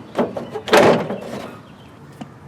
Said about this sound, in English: So let's open the hood.